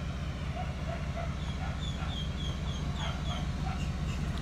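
Rescued dogs from the Bahamas just off a yacht in West Palm Beach, with a crowd of them yipping and whimpering in short, scattered high-pitched calls over a steady, loud background rumble.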